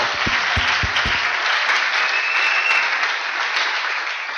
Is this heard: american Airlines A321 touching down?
no